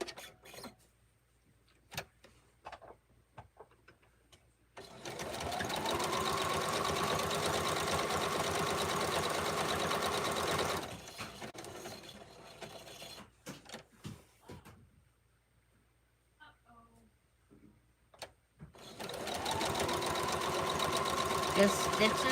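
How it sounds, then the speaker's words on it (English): Sewing machine stitching around the edge of a rag quilt to stabilize the batting, set to a long stitch: two steady runs of fast, even motor hum separated by a quiet pause with small handling clicks. "Just stitching around. It's enough to stabilize our batting."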